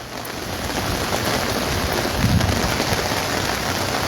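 Steady rain pours at a bus stand in Majalgaon, a dense continuous hiss of drops on surfaces, loud and close throughout with no voices.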